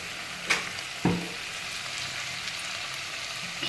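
Homemade vangibath masala powder fries in a pan with a steady, close sizzle, broken by a couple of short scraping stirs.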